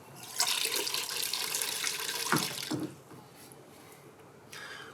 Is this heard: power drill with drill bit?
no